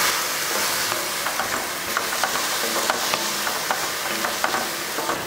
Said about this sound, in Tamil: அந்த பச்சை வடை போகிற வரைக்கும் இதை நல்லா வதக்கி விட்டுக்கணும்